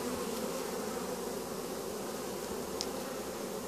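Honeybees fanning hard at a hive entrance with a dense, steady hum of wingbeats, close and even throughout with no talking.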